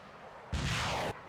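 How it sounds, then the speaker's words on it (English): An F-35 launches missiles in the naval combat game Naval War: Arctic Circle, a single loud rushing blast of about half a second that stops sharply against a quiet background. "The F-35 now has a target within range and opens fire."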